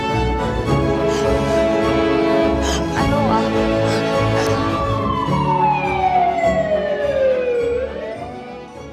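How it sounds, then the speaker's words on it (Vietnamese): A loud ambulance siren wails in a drama scene after a stabbing, its tone sweeping up and down continuously before one long falling glide as it fades toward the end. "Thắng, gọi xe cấp cứu đi."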